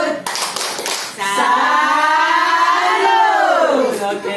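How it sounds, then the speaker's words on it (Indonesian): A women's family group in an Indonesian community session does a short burst of rhythmic claps, then voices chant a long drawn-out call together. "Tepuk salut."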